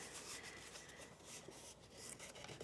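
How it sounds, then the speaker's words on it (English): Fingers rubbing along the edge of a paper box to burnish the fold, a steady close rasping friction that keeps on without pause and without any voices. "I'm going to just burnish with my fingers along there."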